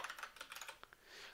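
Quick bursts of typing on a computer keyboard while writing Haskell type-level code, a rapid irregular clatter of keystrokes followed by a couple of isolated taps, quiet and close with no talking.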